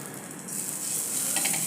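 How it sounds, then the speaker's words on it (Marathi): Butter sizzling on a hot tawa as pav is toasted for pav bhaji: a bright, hissing crackle that swells after a quiet start and holds steady, close and fairly soft. "तर तव्यामध्ये मी घालते थोडंसं बटर"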